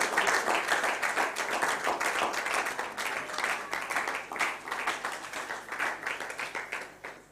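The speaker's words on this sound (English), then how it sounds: "I would like you to give a round of applause to your" Dense clapping from a crowd honoring facilitators at a young filmmakers' program session, loud and sustained throughout before easing slightly near the end.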